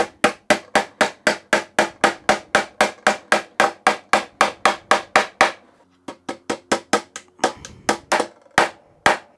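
A small hammer drives pins into a butt-jointed wooden box with a long, steady run of sharp, close taps. After a brief pause, a sparser, irregular series of blows follows.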